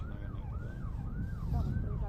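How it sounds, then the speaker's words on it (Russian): A distant ambulance or police siren wails in slow rising-and-falling sweeps, carried across a city below a high lookout in Tiberias on a hot day, steady and faint over low background rumble. "Едет там скорая или полиция"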